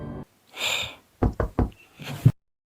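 Knocking on a door in a dark game: a quick series of three close, loud raps follows a breathy sound, then a softer rustle and thud end the sequence.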